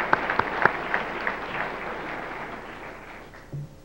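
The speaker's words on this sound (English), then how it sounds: "Let's give those people a round of applause for what they've done." An audience at a Hall of Fame induction ceremony gives a round of applause for the committee, a few sharp claps at the start thickening into moderate, somewhat distant clapping that thins out toward the end.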